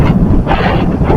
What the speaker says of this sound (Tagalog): Napakalakas ng hangin, mga kabiwas.